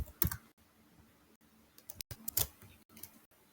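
Someone types on a computer keyboard while writing code, giving a few quick clusters of close key clicks separated by short quiet gaps.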